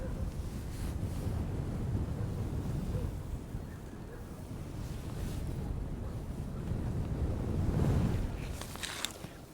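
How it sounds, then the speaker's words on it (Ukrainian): Strong wind buffets the microphone on thawing lake ice in a continuous low roar, surging louder near the end, with faint high rattling. "Боже, який вітер."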